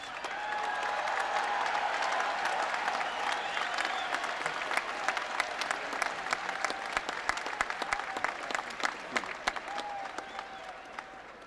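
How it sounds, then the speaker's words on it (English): Graduating West Point cadets burst into sustained applause and cheering at a 1997 commencement ceremony, a dense wash of clapping from a large crowd that stays loud throughout, with sharper individual claps standing out toward the end. "The cheering was a little disconcerting."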